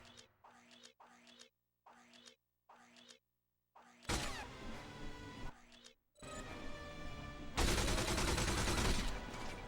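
Gunfire in the 2005 video game 007: From Russia With Love: a few short rhythmic bursts separated by brief silences, then long, dense, loud volleys of shots and impacts that nearly fill the second half.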